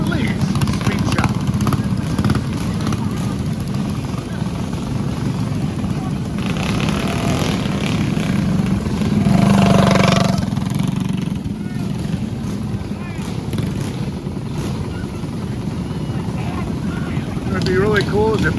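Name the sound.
mini bike engines racing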